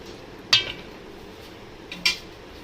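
A spoon clinks twice against a pan of Kerala-style crab roast gravy during stirring, two sharp metallic taps about one and a half seconds apart over a faint kitchen background.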